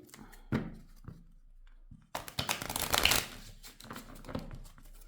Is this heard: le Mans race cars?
no